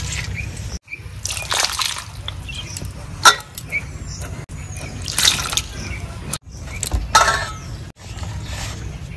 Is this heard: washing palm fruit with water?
yes